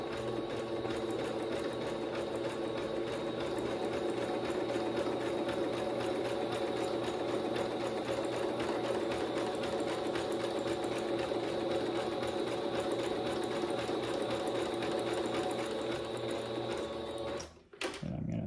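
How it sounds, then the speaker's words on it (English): A sewing machine runs straight and zigzag stitches on a fabric disc golf chalk bag, a steady close mechanical hum and rapid needle clatter that holds evenly before stopping briefly near the end. "So I'm gonna start off with a straight stitch. And then switch over to my zigzag"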